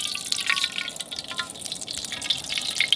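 Cooking oil heats in a wok with beef brisket preparation underway, giving a faint, close crackle and sizzle with light spattering ticks over a quiet background.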